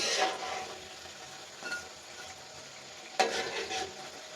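Gaja sweets fry gently in oil over low heat, giving a soft, quiet sizzle with a few brief scraping stirs of the pan at intervals.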